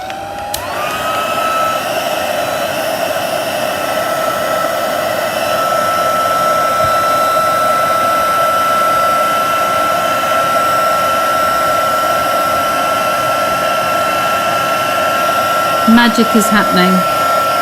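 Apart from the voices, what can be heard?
heat tool melting embossing powder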